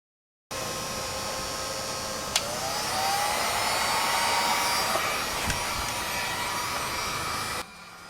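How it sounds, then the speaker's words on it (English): A heat gun blows hot air onto a dented car bumper; the steady, loud whooshing blower starts abruptly, runs evenly for about seven seconds with a slight rise in pitch, then cuts off. "begin heating up the dent with a heat gun or blow dryer"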